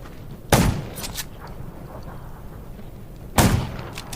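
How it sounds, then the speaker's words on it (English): Two loud, sharp gunshots a few seconds apart in the zombie survival video game Undawn, each with a short echoing tail over quiet background ambience. "Gunshots will attract more zombies."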